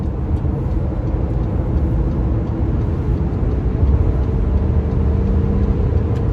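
A Honda Ridgeline truck drives up a short on-ramp onto a 75 mph highway on a foggy morning, its engine and road noise forming a steady, loud cabin drone.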